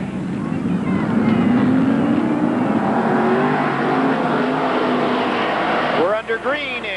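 Modified race cars roar around Merrittville Speedway in a heat, a loud sustained engine drone with rising pitch as the pack accelerates, under an announcer's voice on the public address.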